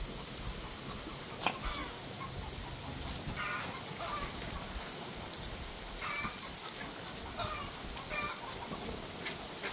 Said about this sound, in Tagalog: Maingay yung manok natin guys na native, may nangitlog siguro.